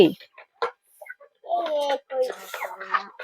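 Chickens cluck and chatter nearby in short bursts, with people talking around them.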